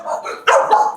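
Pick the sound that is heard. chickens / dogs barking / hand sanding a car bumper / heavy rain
dogs barking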